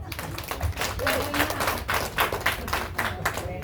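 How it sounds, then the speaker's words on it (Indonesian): A seated audience at a car handover event gives a short burst of clapping, somewhat faint and uneven, mixed with murmuring voices. "Tepuk dong."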